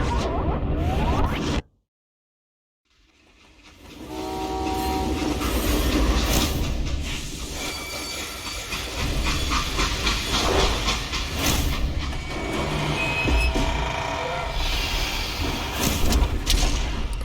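A freight train in the Call of Juarez Gunslinger video game rumbles and clatters loudly with hissing steam as it stops, after a brief full silence, continuing without talk.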